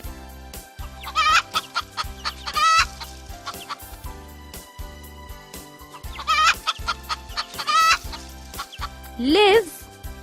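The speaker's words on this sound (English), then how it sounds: "hen" A hen clucks in short bursts several times, close and clear, over a steady rhythmic backing beat, with a higher squawk near the end.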